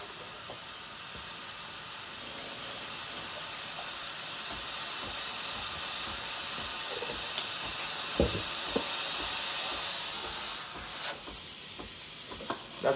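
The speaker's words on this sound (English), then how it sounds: "Steam, turn on the steam." The steam wand on a Breville Barista Express BES870 espresso machine hisses continuously and evenly for several seconds, with occasional small clicks and knocks near the end.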